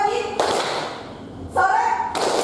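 Schoolchildren in a classroom clapping a call-and-response rhythm game, with short sharp bursts of claps alternating with an adult voice giving the cues.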